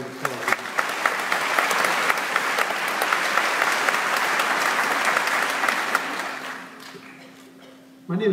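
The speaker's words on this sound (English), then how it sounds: "Let's give them a round of applause." Sustained applause from a large audience at a 2019 high school commencement ceremony, a dense wash of clapping with a few sharp claps on top that holds steady, then fades out near the end.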